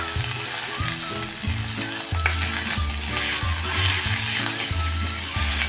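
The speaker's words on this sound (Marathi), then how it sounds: "आता मिरची चांगली भाजीपर्यंत आपण ह्याला एक मिनिटभर असं परतून घेऊया" Green chilli and half an inch of grated ginger sautéing in hot oil for a no-onion, no-garlic dal, giving a steady loud sizzle with rhythmic stirring scrapes throughout, no talking.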